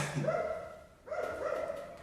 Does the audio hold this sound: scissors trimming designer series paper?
no